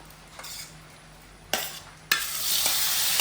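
Squid hits hot coconut oil with a sudden sizzle that swells into a steady, loud frying hiss, with a few utensil clinks along the way.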